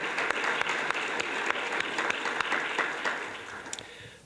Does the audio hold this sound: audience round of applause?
yes